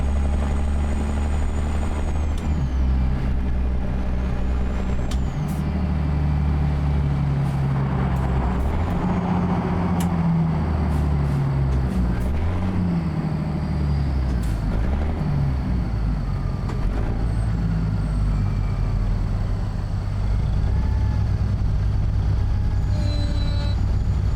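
A Caterpillar 3406B diesel semi-truck engine from the ZeeMod sound mod in American Truck Simulator drones loud and close, its low rumble rising and falling through gear changes, with occasional clicks and air hisses.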